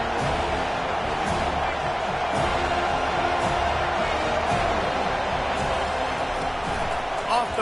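A football stadium crowd roars steadily behind the defense on a big third down, a broad sustained wash of noise under a commentator's voice.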